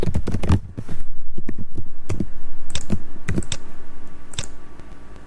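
Close, steady typing on a computer keyboard as a new folder name is entered, a quick run of crisp key clicks with brief pauses, loud and alone with no talking.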